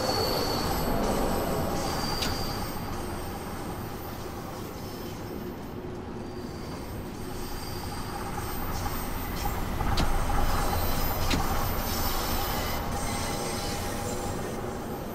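Simulated London Underground 1972 tube stock train on the Bakerloo Line running steadily, with a continuous rumble of wheels on track, metallic squeals and clacks throughout, and a slight swell in loudness near the end.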